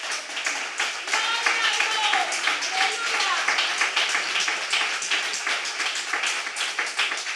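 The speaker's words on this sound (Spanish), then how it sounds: "Denle un aplauso fuerte al Señor" Church congregation applauding for the Lord during a Spanish-language sermon, a dense, steady wash of clapping filling the room with voices shouting and singing over it throughout.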